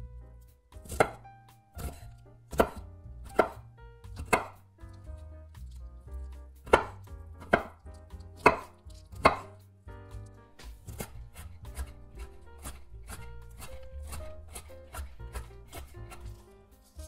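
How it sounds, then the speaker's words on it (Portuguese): Knife chopping broccoli finely on a board, a run of sharp taps coming in uneven clusters, then a faster stream of lighter chops near the end, close and fairly quiet with no talking. "Escolha o brócolis e corte bem picadinho."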